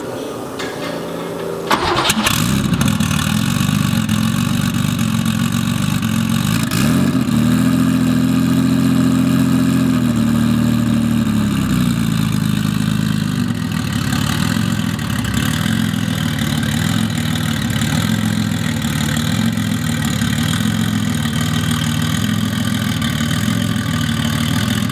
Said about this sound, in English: slap in a little exhaust clip